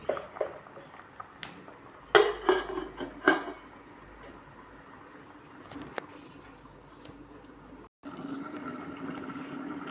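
A soup pot being covered with its lid: several sharp metallic clanks close by, followed by quieter clatter and a soft bubbling hiss.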